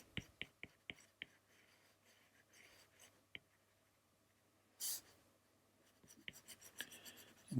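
Pencil drawing a cartoon face on paper, with quick light taps and short scratchy strokes up close, a brief louder rustle, then more faint sketching strokes.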